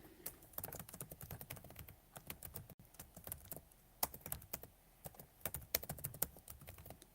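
Rapid typing on a computer keyboard while working on a crochet blanket project, a steady stream of close, quiet key clicks with brief pauses and no talking.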